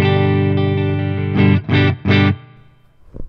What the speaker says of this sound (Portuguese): Aí agora aqui vamos colocar a micro switch na posição spring, né? Reverb de mola.